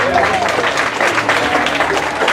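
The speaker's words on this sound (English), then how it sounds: "please a round of applause for Trung Pham, the president of the current year Kết Đoàn Association" An audience at an association evening event claps for a speaker, a dense, steady burst of applause throughout with a few voices mixed in.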